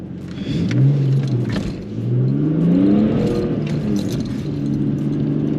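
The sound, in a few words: car launching and accelerating with traction control on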